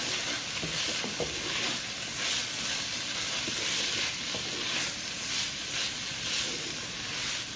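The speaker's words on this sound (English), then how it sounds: "Then we're gonna give it a stir." Guyanese style fried rice ingredients stirred in a hot pan, a loud continuous sizzle and hiss that holds steady, with faint scraping of the spoon underneath.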